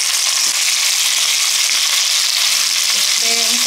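Chicken pieces for Peruvian chicken stew fry in hot oil after being turned over, a loud, continuous close sizzle with a few light clatters of the utensil, no talk.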